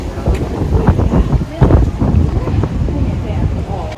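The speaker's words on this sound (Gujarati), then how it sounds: "જબરો પવન ચાલુ છે" Strong wind buffets the microphone outdoors in Melbourne city, producing loud, gusty low rumbles and blasts that rise and fall, while a person talks through it.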